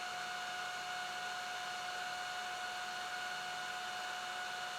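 A hair dryer blows on a painted Ultramarine miniature, a steady, even whooshing drone with a fixed whine, running unbroken and fairly close.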